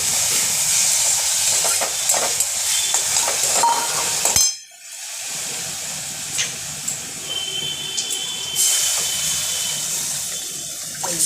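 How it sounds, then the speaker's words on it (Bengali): A pot of red lentil dal boils hard with a loud, hissing, bubbling roar that drops out briefly for a moment, then resumes steadily, with no voices. "এটা আপন তালে ফুটবে ডাল"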